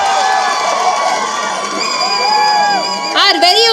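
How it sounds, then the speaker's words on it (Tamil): A crowd at a film first-look launch event cheers for a guest in black, with loud sustained cheering, high whoops and shouts that rise near the end. "Let's give it up for TSK"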